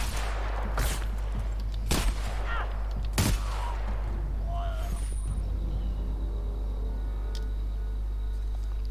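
In The Outer Worlds, a machine gun fires in sharp, loud bursts, three distinct volleys about a second apart, followed by quieter ambient noise and faint clicks; no voices are heard.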